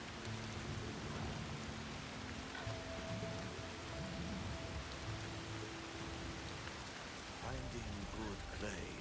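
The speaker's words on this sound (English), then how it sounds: "here comes the rain." Steady rain in the video game Assassin's Creed Shadows, a broad constant hiss of falling rain with faint background tones underneath.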